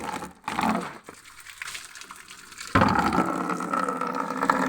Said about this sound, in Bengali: এটার মধ্যেই জল নেব।